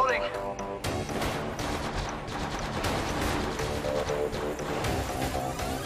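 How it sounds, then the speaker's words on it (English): Gunfire in Apex Legends Mobile, dense overlapping shots and impacts in a busy fight, fairly loud and continuous, with a player talking over it. "They're shooting at me!"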